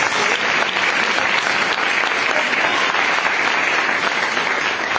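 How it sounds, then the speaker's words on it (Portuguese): A church congregation at a Portuguese-language worship service claps steadily and loudly throughout, a dense uniform wash of applause with no letup. "E eu quero agradecer as palmas ao nome do Senhor."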